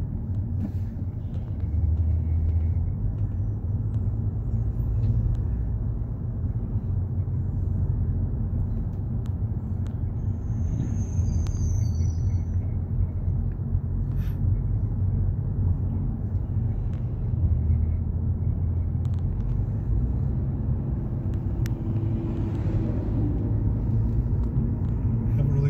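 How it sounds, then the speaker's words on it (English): Steady low road traffic rumble of passing cars heading back into a rebuilding town, continuous and fairly close throughout with no talk. "there's some traffic getting back into town"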